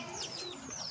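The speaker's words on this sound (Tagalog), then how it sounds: "Tawag doon, mga lovebird." Pet lovebirds chirp at a house, giving a quick jumble of high, squeaky calls with soft clucking and cooing from other birds close by.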